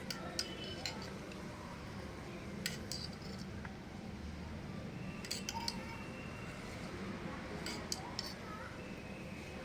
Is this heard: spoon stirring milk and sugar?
yes